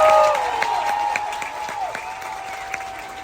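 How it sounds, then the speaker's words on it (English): Audience applause aboard a Carnival cruise ship, a burst of clapping that fades over a few seconds, with a sustained musical tone playing underneath. "please give them a huge round of applause"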